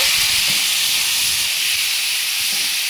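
Bottle gourd greens hit hot oil with tempering spices in a pan, giving a loud, continuous, close hiss of sizzling that holds steady throughout.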